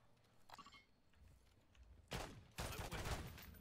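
Video game gunfire from an upgraded in-game gun comes in two loud bursts of rapid shots after a faint early pop, close and with no speech over it.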